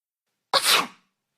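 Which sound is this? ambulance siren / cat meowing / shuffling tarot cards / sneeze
sneeze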